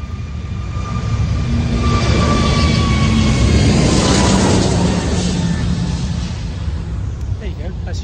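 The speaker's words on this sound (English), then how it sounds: "You can just hear the jet taking off now." An EasyJet jet plane takes off from the Gibraltar runway, a loud, steady engine roar that fills the whole stretch without letup.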